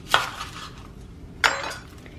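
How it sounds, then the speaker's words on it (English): A knife chops through one whole white onion on a cutting board, giving two sharp, close chopping strikes about a second and a half apart with quiet pauses between. "let's get started on chopping up some onions"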